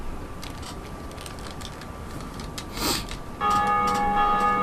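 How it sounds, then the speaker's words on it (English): A bell tolls in Dark Souls Remastered, entering after a stretch of ambient game noise and a brief whoosh, then ringing with a bright sustained metallic tone that holds to the end. "And someone else has just rung the bell as well."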